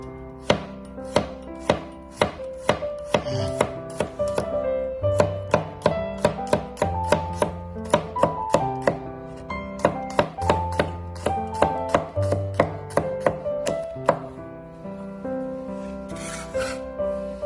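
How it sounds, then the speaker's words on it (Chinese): A knife chops garlic into thin slices on a cutting board, a rapid run of crisp, close, evenly spaced taps that pause briefly and resume, with no voices. "准备一把大蒜，将大蒜切成薄片"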